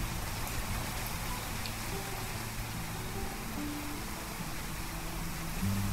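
Rain falling during a rainy spring in the video game Clanfolk, a soft, steady patter with low, quiet ambient tones running beneath it.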